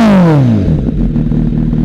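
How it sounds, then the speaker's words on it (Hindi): Kawasaki Z900 motorcycle fitted with an Arrow exhaust, loud and close: a sharp rev drops quickly and settles into a deep, throbbing, uneven idle rumble. "यह है इसका आइडलिंग साउंड जो काफ़ी लाउड है"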